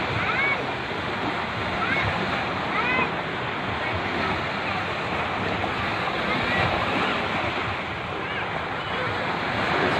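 Sea waves wash in a continuous, blustery roar with wind buffeting the microphone, while a child splashes in the shallows and voices talk over the surf throughout.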